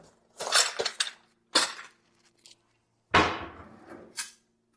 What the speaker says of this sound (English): Set this aside, it says. And then grab a bowl.